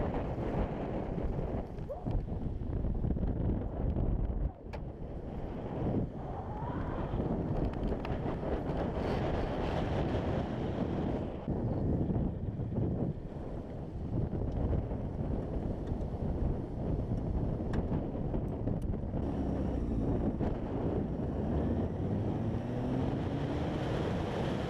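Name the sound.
wind blowing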